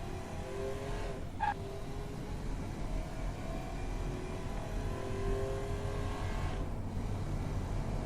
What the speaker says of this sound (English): Obviously lots of wheel spin off the line.